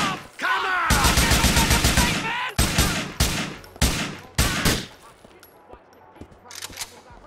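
Gunfire in the GTA IV video game: a long rapid automatic burst, then several short loud volleys spaced about half a second apart, fading into fainter shots and background noise.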